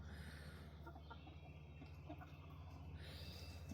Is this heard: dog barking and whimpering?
no